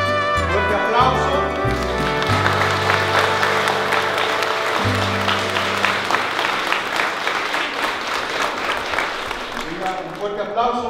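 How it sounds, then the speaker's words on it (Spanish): Wedding guests applaud loudly at a church ceremony in Puebla, a dense sustained clapping that fills the space, with a sung or organ chord underneath at the start. "Un fuerte aplauso nuevamente."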